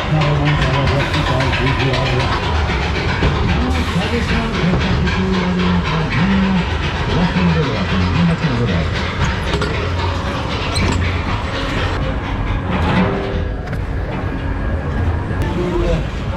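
Fairground ride La Sensation at a summer funfair in Lille rumbles and creaks along its track with loud continuous mechanical rolling, cars clattering through the last curve and climbing again, amid crowd noise and a voice talking throughout.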